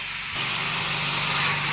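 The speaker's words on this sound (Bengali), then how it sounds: "ভালোভাবে কষা হচ্ছে" Chicken being sautéed as kosha in a pan, a steady broadband sizzle and hiss that swells after a quieter start and holds loud and continuous, with no talk.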